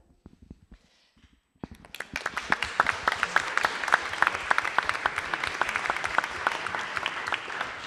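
An audience at a classical debate festival bursts into applause after a few quiet, scattered claps. The clapping swells into a dense, sustained round that is clear and fairly close.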